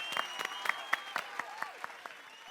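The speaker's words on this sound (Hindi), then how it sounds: "आप लोग जरा सोढ़ी जी के लिए तालियां बजाएंगे" A small audience claps for Sodhi at a comedy poetry gathering, a dozen or so sharp distinct claps in an uneven rhythm, close and fading toward the end.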